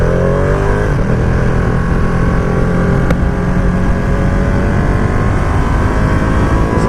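A 2020 Ducati Panigale V2 motorcycle ridden along a bumpy road, its engine droning steadily and loudly with heavy wind rush throughout, no voices.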